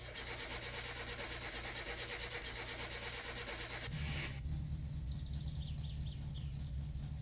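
Datsun Satsuma engine in the game My Summer Car cranks and starts partway through, then settles into a steady low idle that stays loud and alone to the end.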